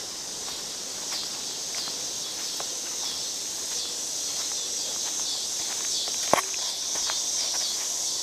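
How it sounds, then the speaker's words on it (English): Loud, steady high-pitched cicada buzzing fills the air continuously outdoors, with a few faint clicks and a brief sharp knock partway through. "The cicadas are impressively loud right now."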